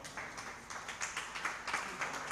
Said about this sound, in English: Let's give him a good clap.